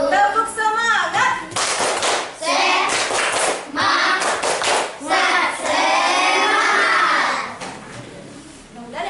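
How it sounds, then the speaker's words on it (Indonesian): A class of children claps a rhythmic spirit clap in a classroom, bursts of loud, sharp hand claps in a patterned sequence, mixed with children's voices chanting along. "Tepuk semangat."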